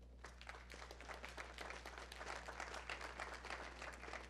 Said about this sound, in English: Give me a round of applause if you do that.